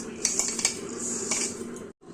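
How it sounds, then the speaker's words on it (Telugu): A spoon scraping and clinking against a metal pot while a sweet mixture with roasted gram and peanuts is stirred round, several sharp metallic taps over a steady grating, close and fairly loud. "ఇట్లా రౌండ్గా తిప్పితే మొత్తం కలుస్తుంది."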